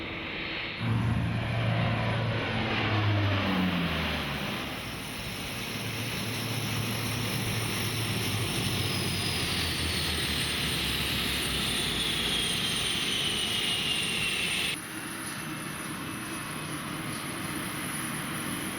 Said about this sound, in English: the Hercules and the crews of 436 Squadron here housed when they're home in Canada fly those men and materiel through to Kandahar